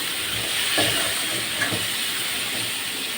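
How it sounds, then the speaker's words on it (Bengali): Pointed gourd and pumpkin frying in a pan with salt and turmeric, a continuous loud sizzle and hiss with a few soft clinks and stirring knocks, with no talk. "লবণ আর হলুদ দিয়ে পটল আর কুমড়োকে বেজে নিব"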